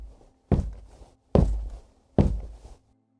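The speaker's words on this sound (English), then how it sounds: "I was woken up by the sound of footsteps coming up the stairs." Three heavy, evenly spaced footsteps thud on stairs at a slow pace, each a dull impact with a short decay, close and distinct against a quiet background.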